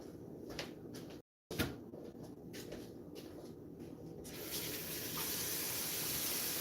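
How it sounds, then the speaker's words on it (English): Cooking spray hisses from an aerosol can into a pan in a home kitchen, a steady broadband spray rising after a few soft handling clunks and continuing to the end. "let me spray this pan out real quick"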